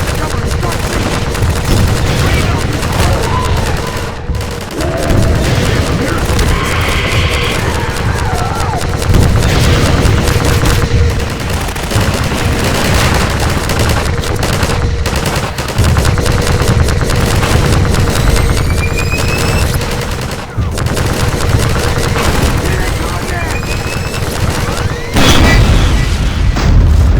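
Gunfire and explosions in the video game Half-Life 2, a sustained loud barrage of rapid shots and heavy booms, with brief pauses and faint voices under the din.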